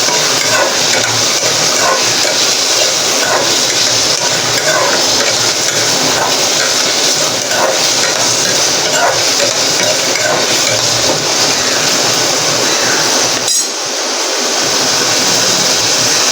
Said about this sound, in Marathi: बटाटा पण थोडासा फ्राय करून घ्यायचा तेलामध्ये